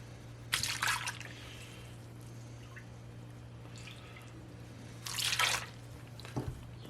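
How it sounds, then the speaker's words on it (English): Vegetable broth pours through a fine chinois strainer into a bowl in two short splashing bursts, with quiet dripping and trickling between them over a low steady hum. "The idea is to strain the broth into the bowl."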